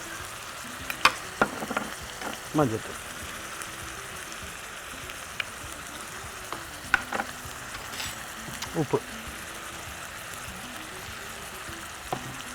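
Spices such as chilli powder, coriander powder, turmeric and salt sautéing in a pan for a Tamil home-style curry, a soft steady sizzle with occasional scraping stirs, and a voice speaking briefly over it.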